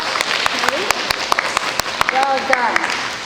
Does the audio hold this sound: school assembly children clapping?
yes